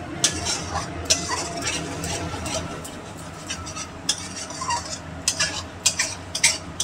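Mutton curry with potatoes and turmeric is stirred in a pot, a spoon scraping and clinking against the metal in irregular close strokes over a low simmering hiss.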